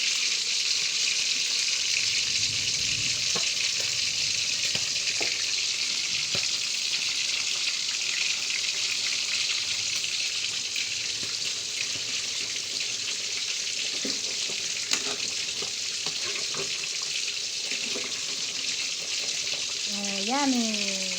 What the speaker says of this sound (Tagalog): Pritong isda.